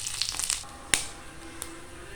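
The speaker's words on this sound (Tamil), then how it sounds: "எண்ணெய் சூடானதுமே கடுகு போட்டுக்கலாம்" Mustard seeds hit hot oil for a raw mango pickle masala, giving a short burst of scattered sizzling crackles and sharp pops, close and fairly faint, with no voices.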